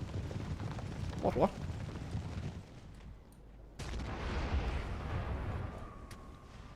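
Field guns of a WW1 Total War mod battle fire at the rear, dull booming blasts rolling under a rumbling battlefield din, with a brief voice heard.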